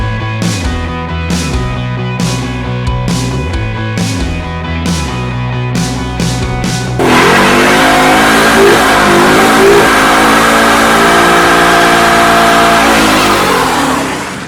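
A 5.0-litre V8 in a 2016 Ford Mustang blips in a string of sharp revs, then roars into a sustained high-revving run that holds loud and steady to the end.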